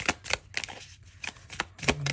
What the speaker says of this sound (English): I'm going to shuffle a few more times,